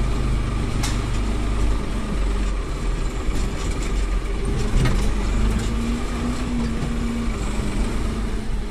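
A heavy diesel tractor engine with a front loader rumbles steadily throughout, a low continuous drone with occasional clanks, close by.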